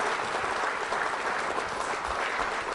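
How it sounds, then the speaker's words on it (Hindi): Steady audience applause at a college quiz show award ceremony, an even wash of clapping throughout, moderately distant and without talk. "तालियां जोरों से बजाइए आभार प्रदर्शन के लिए"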